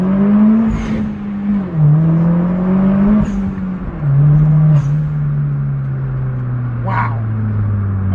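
A car engine with a BTR tune revs up and down repeatedly with a deep, throaty drone, close and loud, its pitch rising and falling in waves.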